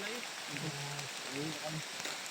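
Rain hisses steadily in the background while people talk over it in short, intermittent phrases.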